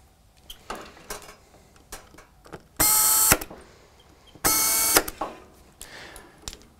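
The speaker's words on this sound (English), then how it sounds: "And then the rest of the screws can be installed." A power driver sets screws while servicing a Revo Beast, with two loud, sustained whirring bursts of about half a second each among scattered light clicks and handling knocks.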